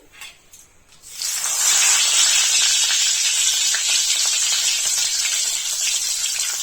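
Bay leaves dropped into hot mustard oil in a wok set off a loud, sustained sizzling hiss that bursts in after a second of near quiet and holds steady to the end.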